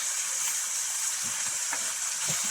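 Food sears in a hot pan during van life cooking of spicy ramen noodles, giving a continuous bright hiss and sizzle with faint crackles, close and steady throughout.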